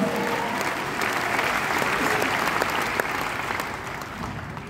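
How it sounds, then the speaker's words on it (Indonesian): A congregation at an evening church revival service claps together, a broad, steady wave of applause filling the hall and fading slightly toward the end. "berikan tepuk tangan bagi Tuhan"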